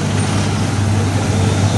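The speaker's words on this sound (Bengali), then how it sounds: "গাড়ি স্লো কর, স্লো কর" A car slowing on a highway produces a steady close engine hum and road rumble with constant loudness throughout.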